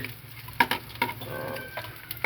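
Mustard seeds crackle in hot oil for a chapila fish fry dish, giving a faint sizzle broken by a few sharp pops and light stirring clicks, close by with no talking.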